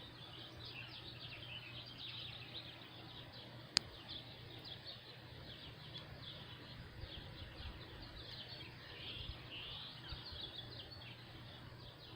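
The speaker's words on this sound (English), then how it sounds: "I'm going to shut up a minute and let you hear the birds" Faint, scattered bird chirps outdoors over a steady low hum and soft ambient noise, with one sharp click partway through.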